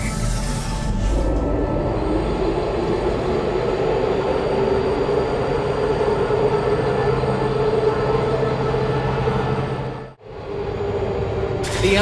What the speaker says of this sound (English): The elevator wasn't going to my testing track, so I've rerouted the lift.